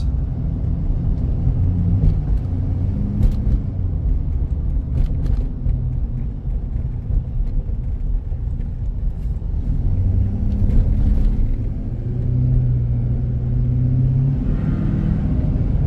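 A 2019 Ford F-250 Super Duty Limited pickup engine idles steadily up close, a deep continuous rumble with slight fluctuations throughout and no voices.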